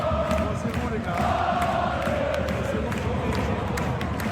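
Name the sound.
football supporters of Brest chanting in the stadium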